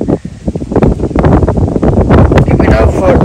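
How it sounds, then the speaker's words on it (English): Loud, rough wind buffets the microphone in continuous gusts, rumbling and crackling close up with no clear voices. "very windy morning anyway"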